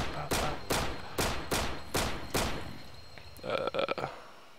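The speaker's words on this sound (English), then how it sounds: "Just hold it down and just rapid fire." Pistol rapid fire in a Minecraft sniper mod: six loud, evenly spaced game gunshots about a third of a second apart, each with a short decaying tail, followed by a burst of quicker, lighter clicking shots.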